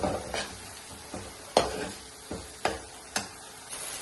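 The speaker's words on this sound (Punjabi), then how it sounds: "ਇਧਰ ਆਪਣਾ ਤੜਕਾ ਵੀ ਹੋ ਰਿਹਾ ਰੈਡੀ ਆਪਾਂ 2-3 ਮਿੰਟ ਹੋਰ ਇਹਨੂੰ ਭੁੰਨਾਂਗੇ" A tadka for sambar roasting in a pan gives a continuous crackling sizzle, with sharp scraping stir strokes at irregular intervals, close and moderately loud.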